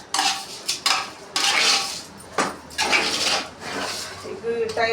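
A cooking pan lifted off the stove and set down, a few close metallic clanks and clatters spaced unevenly over several seconds in a home kitchen.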